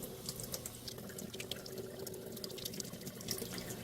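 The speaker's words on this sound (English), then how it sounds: "they say to hold it under running water for 30 seconds." Tap water runs steadily over an espresso machine's filter at a sink, a continuous close hiss and splash without pauses, moderately quiet and alone.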